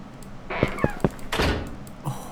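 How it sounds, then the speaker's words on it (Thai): Door closing in the horror game Neural Parasite, a few quick knocks and thunks followed by a heavier scraping shut and a soft final thud, moderately loud and close. "เสียงปิดประตู"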